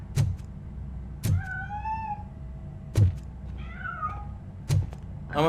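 A cat in the RoboCop: Rogue City video game meows twice, drawn-out and wavering, between heavy rhythmic metallic footsteps that thud at regular intervals.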